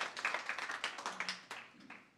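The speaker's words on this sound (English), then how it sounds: "Round of applause." Scattered, fairly faint clapping from a small audience at a city budget kickoff meeting, individual claps audible in an uneven rhythm that tapers off near the end.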